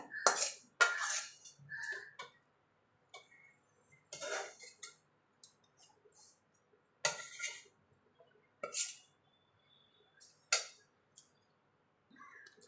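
A spoon scrapes and clinks as a cooked coconut-jaggery mixture is moved onto a plate to cool. The sounds are quiet, intermittent metallic taps with silent gaps between them.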